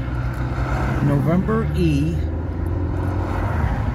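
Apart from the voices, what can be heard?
car driving west through the Eisenhower Tunnel, Colorado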